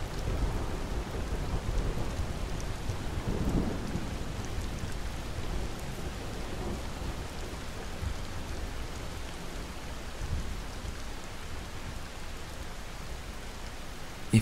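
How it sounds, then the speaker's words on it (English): Steady rain falls across an outdoor landscape while thunder rumbles low and distant, a soft continuous wash of drops with deeper rolling swells beneath, no voices. "savoring the soothing music of the rain and distant thunder"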